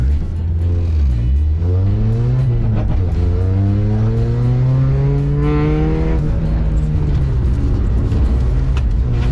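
A Renault Clio drifting, its engine loud and continuous with rising and falling revs as the car slides, no speech over it.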